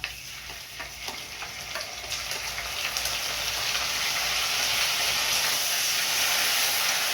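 Potatoes fry in a pan with cumin, coriander and ginger paste, giving a steady, loud sizzle and hiss that swells after the spices go in, with a few faint stirring clicks and no talk.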